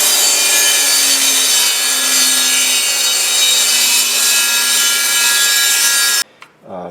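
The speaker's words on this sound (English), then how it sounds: "This blade here is a regular framing, you know, blade, and it's carbide tipped." A circular saw fitted with a regular carbide-tipped framing blade cuts through a metal undercarriage cover plate from a 2022 Toyota Tundra, a loud steady grinding rasp lasting about six seconds before stopping abruptly.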